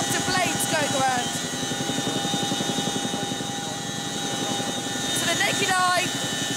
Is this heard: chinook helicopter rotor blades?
yes